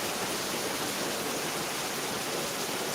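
A dense downpour of heavy rain hisses in an unbroken, even wash of sound, loud and close, with nobody speaking.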